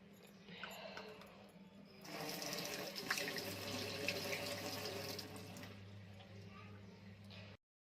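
A kitchen tap runs steadily while a woman washes her face, a broad hiss of flowing water that starts after a quieter moment and continues for several seconds before cutting off abruptly.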